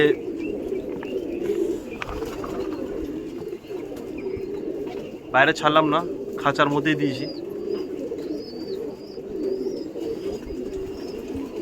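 Caged racing pigeons coo softly and steadily while being fed, with a louder burst of cooing and wing flutter near the middle; someone talks over them throughout.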